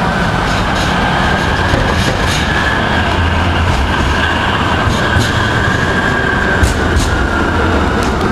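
A Portland MAX light rail train rumbles steadily throughout, a broad continuous roar with rail hum and faint wheel noise, loud and close as if heard from on or beside the car.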